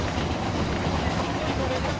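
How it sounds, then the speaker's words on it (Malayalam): Passenger train running along the Urubamba river in Peru, a continuous low rumble with faint rhythmic rail clatter, heard steadily from on board with no voices. "ഉറുബാമ്പ നദിയുടെ തീരത്തുകൂടി തന്നെയാണ് ട്രെയിൻ പോകുന്നത്."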